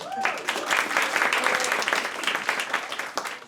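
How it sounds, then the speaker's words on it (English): Audience at a live stand-up comedy show in Bucharest breaks into a round of applause, dense clapping swelling quickly and holding steady before tapering, with a voice briefly over the start. "Nice, okay, well, round of applause for you not converting."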